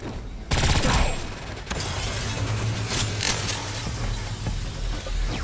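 Rapid gunfire from the video game Agents of Mayhem, with a loud opening burst of shots followed by continuous dense firing, mechanical clatter and a low droning hum, with no talk.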